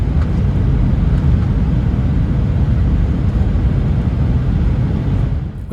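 Steady, loud cabin roar of a LIFT Airbus A320, the world's oldest active one, on approach to Johannesburg, a continuous broadband engine and airflow rumble without pauses.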